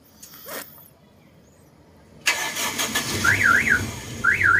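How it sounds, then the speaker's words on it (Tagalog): A Toyota Tamaraw FX engine cranks and catches after a fingerprint start, turning over abruptly and settling into a rough idle, followed by a couple of rising-and-falling electronic chirps. "i-start ang ating sasakyan sa pamamagitan ng fingerprint"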